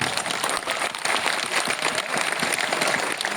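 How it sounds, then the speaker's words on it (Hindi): An audience at a Gorakhpur stage conversation with actor Rajpal Yadav breaks into lively applause, a fairly close burst of many hands clapping steadily throughout with no talking over it. "ताली तो बजाओ आप।"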